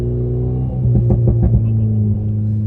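An Alpine car engine drops in pitch with a few quick bursts and pops as it downshifts, then settles into a steady low rumble.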